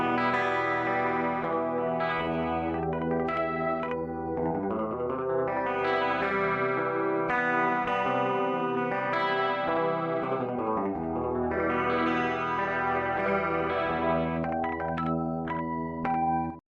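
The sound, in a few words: spatial chorus effect pedal on a guitar signal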